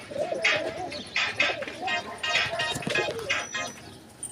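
Pigeons coo repeatedly in soft, rolling bursts, fairly close, with a steady rhythm over light background noise.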